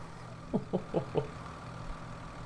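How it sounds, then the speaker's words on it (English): Tractor engine idling in Farming Simulator 17: a steady low mechanical hum runs throughout, with four short, evenly spaced louder bursts near the start. "So I'm going to turn off the tractor."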